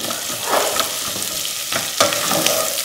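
Onions thrown into a hot pan crackle and sizzle close up, with a couple of sharper clattering stirs over a steady frying hiss and no talking.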